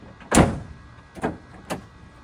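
Ford F150 tailgate lowering on a new dampener, a fairly quiet thump followed by two softer knocks as it settles, heard up close with no talking.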